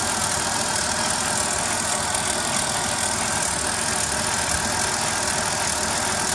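A Dodge Caravan engine, with a coolant leak and no heat, idling close by: a steady, dense mechanical drone with even texture throughout and no voices.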